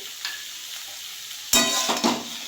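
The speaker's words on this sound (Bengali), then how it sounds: "টমেটোটা দিয়ে দিলাম এবার আমি দিয়ে দিচ্ছি এক চামচ নুন আর দিয়ে দিচ্ছি সামান্য একটু হলুদ" Tomato with salt and turmeric frying in a pan, a faint low sizzle that jumps to a louder burst of crackling frying and stirring partway through, then continues with a couple of further surges.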